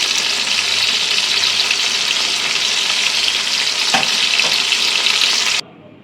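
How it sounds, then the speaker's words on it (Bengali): Pointed gourd (potol) frying in oil in a pan gives a loud, dense, continuous sizzle with a couple of brief stirring knocks, then cuts abruptly to quiet near the end. "এবার পটলটা আমার প্রায় ভাজা হয়ে গেছে মোটামুটি ভাজা হয়ে গেছে"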